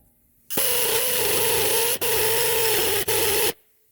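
A power grinder scours heavy rust off the wheel hub of a 2016 Subaru Impreza, a loud, harsh continuous grinding that runs about three seconds with two very brief dips.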